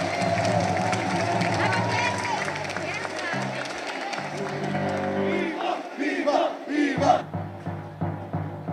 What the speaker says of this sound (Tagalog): mas malakas sa palakpak para sa ating mahal na pong Jesus Nazareno